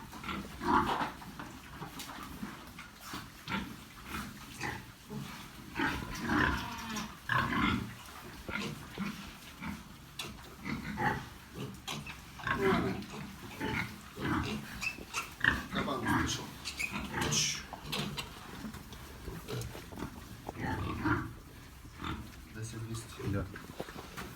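Recently weaned piglets from two sows grunt and squeal in a farm pen. Their close, busy, irregular grunting runs throughout, with occasional voices mixed in.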